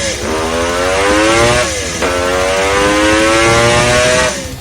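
A Kawasaki H2 750 Mach 4 two-stroke triple motorcycle revs loud and close in two long rising pulls, its pitch climbing steadily before dropping between runs.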